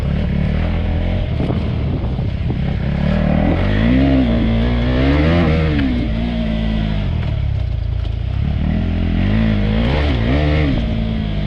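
A KTM 390 Adventure or Beta 300 RR motorcycle engine runs loud and close off-road, its pitch rising and falling as it revs repeatedly, with no talking.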